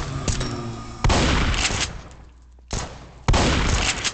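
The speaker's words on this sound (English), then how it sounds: "Ah, this shotgun's shooting blanks." Shotgun fire in a video game: three loud, harsh blasts, each sustained for a moment before tailing off, separated by short quieter gaps.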